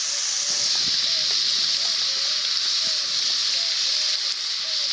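Crushed pointed gourd sizzles steadily in a pan with fried garlic, a continuous close hiss of frying with a few faint clinks underneath.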